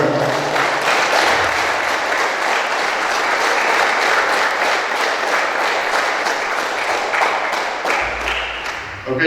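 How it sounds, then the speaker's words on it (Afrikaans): Children and an audience at a school sponsorship handover ceremony clap their hands together in sustained, loud applause that fills the room steadily, with a crowd murmur underneath, tapering slightly near the end. "en dan klap ons lekker handen"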